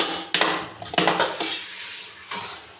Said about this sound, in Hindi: इसको प्रेशर कुकर में डालेंगे।